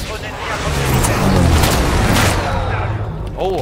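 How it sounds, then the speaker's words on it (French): Air strike explosions in Call of Duty: Infinite Warfare roll as a dense, sustained rumble of booms for several seconds, loud and continuous, with a voice talking over the blasts. "Oh, air strike."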